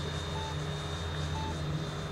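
A Freewing Avanti S electric RC jet with its afterburner lighting runs as a steady, loud broadband rush and whine, with no break for the whole moment.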